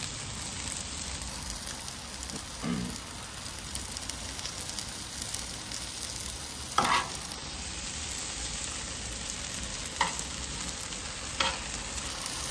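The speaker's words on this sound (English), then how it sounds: "So as you can see, the meat's cooking up pretty good." Iguana meat for fajitas frying in a pan at a base camp cook, a steady close sizzle with a few brief stirring scrapes and clinks breaking through, no talking.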